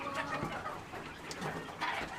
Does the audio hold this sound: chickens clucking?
yes